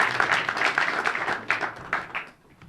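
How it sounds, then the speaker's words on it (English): A room of attendees at a community access television station's annual meeting gives a round of applause, moderate clapping with uneven bursts that tapers off toward the close. "So I'd like to give her a round of applause"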